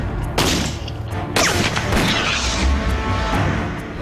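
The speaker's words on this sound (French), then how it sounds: "je vais tirer sur le comburant." Gunshots are fired at an oxidizer sample in an explosives test, giving two sharp, loud reports about a second apart, each trailing into a rumbling echo with no larger blast.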